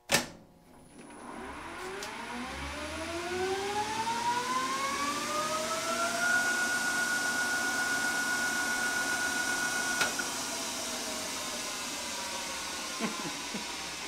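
A two-speed metal lathe on a VFD spins up to 2,000 RPM after a sharp start click, giving a rising whine that climbs steadily and then holds a loud, even high tone, with no voices.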